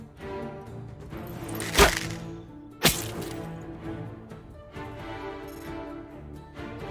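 Arrows strike in the fantasy tactics game Lost Eidolons, giving two sharp, distinct impacts about a second apart over steady background game music.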